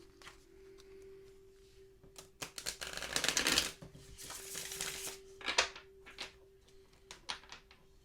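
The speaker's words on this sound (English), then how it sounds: "One more shuffle and we'll do the 3 card" Tarot cards are shuffled by hand in a few quiet riffling bursts, close and soft over a faint steady hum, with no voices.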